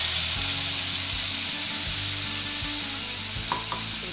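Garlic chili powder sizzles in hot oil as a tempering, a steady hiss under low hums, with a few knocks and scrapes from a stirring spoon close by.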